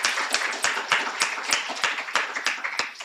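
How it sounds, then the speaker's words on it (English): Audience at a student research expo claps for a student presenter, a modest group whose individual claps stand out as sharp, uneven hits over a light, continuous patter. "I want us to give Yari another round of applause for going first"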